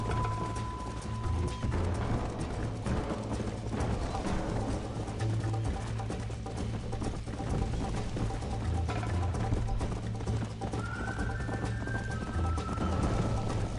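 Galloping horse hooves in the video game Red Dead Redemption, a steady run of clip-clop beats within a dense bed of game sound and low rumble, lasting throughout.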